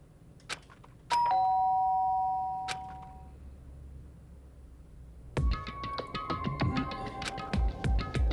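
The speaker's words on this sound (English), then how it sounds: "did I hear the doorbell?" A doorbell chimes once inside the Danganronpa video game, a clear ringing tone that fades slowly, followed after a pause by soft game music with bright plucked notes.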